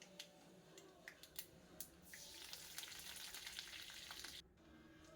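Curry leaves hit hot oil with crackling mustard seeds while tempering for a rice dhokla, giving a quiet, close, continuous sizzle sprinkled with sharp pops and crackles, with no talking.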